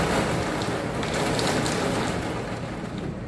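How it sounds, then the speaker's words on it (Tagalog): Dense, heavy summer rain in Saudi Arabia pours down continuously, a broad rushing hiss with some gusty wind noise mixed in. "Lakas ng ulan."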